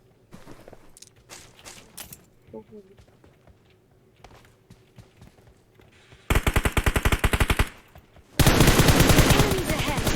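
Gunfire in the mobile battle royale game PUBG Mobile: scattered shots and footsteps under players talking, then two loud close bursts of rapid automatic fire near the end.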